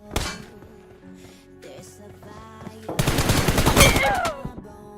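Gunfire erupts in a close-range fight in a PUBG-style shooter: a single loud shot, then quieter game clatter, then a dense, rapid automatic burst lasting over a second, with ricochet-like whines near the end.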